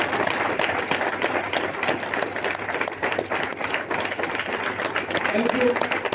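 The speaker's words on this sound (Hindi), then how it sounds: "मैं चाहूंगा अंजुला जी के एक बार जोरदार तालियां होंगी" Sustained applause from an audience at a Hindi talk session, steady dense clapping filling the whole stretch at an even level, with a voice speaking faintly underneath.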